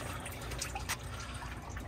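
Water drains and trickles from a truck during a vehicle inspection, a steady wet splashing and dripping wash heard close up with no talking.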